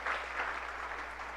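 A church congregation clapping steadily, dense and continuous applause from many hands filling the space.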